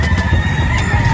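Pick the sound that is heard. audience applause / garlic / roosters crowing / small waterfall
roosters crowing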